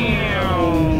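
A voice imitates the Doppler pitch drop of a passing car or fire truck with a sustained, gliding meow-like tone whose pitch slides downward over about a second.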